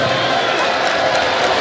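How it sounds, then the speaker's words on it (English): Duke Blue Devils basketball fans at an NCAA March Madness game, a dense wash of crowd noise and cheering filling the arena, loud and continuous, mixed with some talk. "The Blue Devil crowd making some noise, trying to give some energy to Josh Shire's group"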